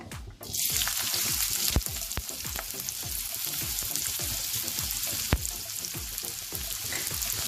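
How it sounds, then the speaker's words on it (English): Chopped onions frying in hot oil in a kadai give a loud, dense sizzle with frequent crackling pops and a few sharp spatters, heard up close and without speech. "Once this heats up, I am going to add the chopped onions into it."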